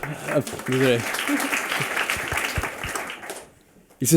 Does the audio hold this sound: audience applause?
yes